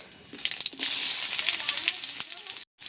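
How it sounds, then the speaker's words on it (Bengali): Dried red chillies, bay leaf, whole cumin and chopped onion hitting hot oil in a pan, a loud, steady sizzle with crackling pops, close up, cutting out abruptly for a moment near the end. "এদিকে আমি তেলে শুকনো লঙ্কা দিয়ে দিচ্ছি, তেজপাতা, আর দিয়ে দিচ্ছি গোটা জিরে আর কুচানো পেঁয়াজ"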